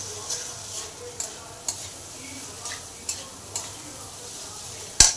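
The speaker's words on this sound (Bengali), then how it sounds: "চলো আলুগুলো ভাজা ভাজা হোক" Potatoes frying with ground spices in a pan, a soft steady sizzle broken by periodic scraping stirs of a spatula, close and fairly quiet with no voices.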